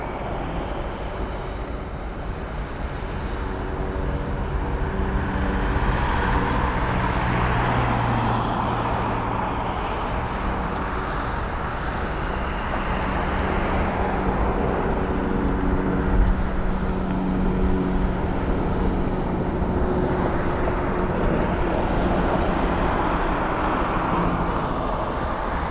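An Airbus A380 taxiing at London Heathrow makes a steady, broad jet engine roar that swells slightly and holds, heard from nearby outdoors with a continuous low rumble throughout.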